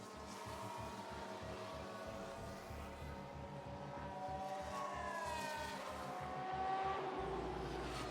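McLaren Formula 1 car in the racing video game F1 Manager 22, its engine droning steadily with a rising whine and faint tyre noise, loud and continuous throughout without talk.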